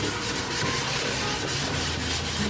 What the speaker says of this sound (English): I'm just gonna turn my sanding block on a slight angle to make sure that I get right in there